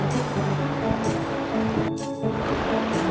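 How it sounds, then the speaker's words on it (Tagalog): River water in Palakol, Floridablanca, Pampanga rushes steadily in a broad, continuous wash, loud and close throughout, with a brief dip partway through. "Ayan, ito yung pinaka-ilog nila."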